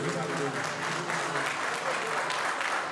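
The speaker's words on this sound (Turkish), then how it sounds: "Ama alkış yok mu bu aileye," Wedding guests applaud at a Turkish family celebration in Köln, a steady dense wash of clapping filling the whole moment.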